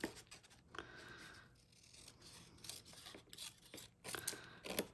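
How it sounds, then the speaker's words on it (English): Scissors snip through the paper flap of a handmade designer-paper gift bag, giving a string of close, faint cuts and rustles with uneven pauses. "And we're going to cut up on this flap."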